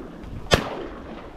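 A shotgun fired while duck hunting outdoors: one sharp, loud blast with a brief rolling tail, standing out against steady wind and background noise.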